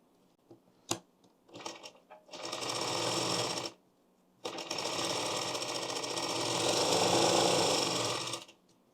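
Sewing machine stitching a belt onto a blouse, running in two long sustained bursts of steady motor whir with a pause between, preceded by a few short clicks and brief starts.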